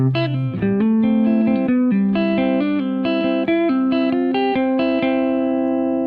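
An electric guitar runs through a full melodic riff, a rapid sequence of picked notes in even rhythm, ending on a sustained ringing note.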